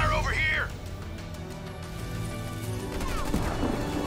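Gunfire crackles through a Halo Wars 2 multiplayer battle, bursts of shots and explosive hits mixed with whooshing effects and game voices over a busy combat background.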